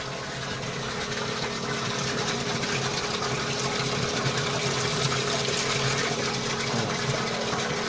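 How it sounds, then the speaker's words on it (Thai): A solar-powered water pump in a farm field runs loud and steady, with a continuous motor hum under a broad rush of gushing water and no talk over it. "นี้จะเป็นปั๊มพุ่งแรงนะครับ"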